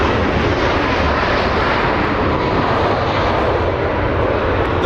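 Airbus A380 jetliner taking off, a loud, steady broadband engine roar that fills the whole clip without letting up, with no voices over it.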